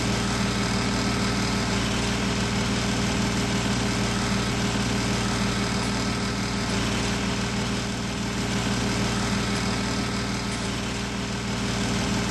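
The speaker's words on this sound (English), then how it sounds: "this is where you can feel the power of the tractor struggling" An in-game tractor engine in Farming Simulator 19 drones steadily under load with a constant low hum and rattle for the whole stretch, fairly close and unbroken, with no voices.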